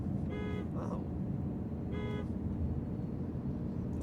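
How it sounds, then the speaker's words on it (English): A 2025 Aston Martin Vanquish sounds its horn in two short blasts roughly a second and a half apart, steady and clear over a constant low rumble of road and engine noise. "You're gonna use your horn, and they're gonna hear"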